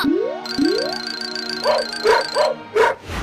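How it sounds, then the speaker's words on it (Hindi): A cartoon dog gives a quick run of bright, bouncy yips and barks, close and loud, with springy rising effects at the start and no talking. "अरे ये कुत्ता तो काफी ऊपर चढ़ गया है"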